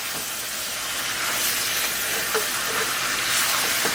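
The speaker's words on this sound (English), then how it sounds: "we're just gonna sear the turkey neck for a few minutes" A seasoned turkey neck sears in a pot for a Jamaican curry, giving a loud, steady sizzle and hiss that runs throughout with no talk.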